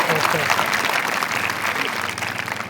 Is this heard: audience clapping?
yes